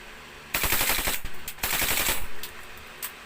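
A Keymore HG M92F airsoft pistol fires full auto in two rapid, close bursts of sharp clacking shots, followed by a few isolated clicks.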